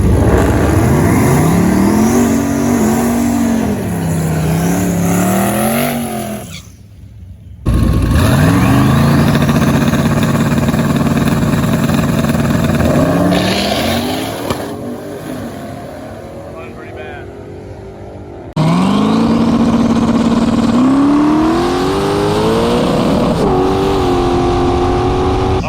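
A supercharged stage 3 Roush drag car makes repeated loud passes, its engine howling up through the gears in rising sweeps, dropping briefly between runs, with people talking underneath.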